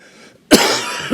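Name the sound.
cough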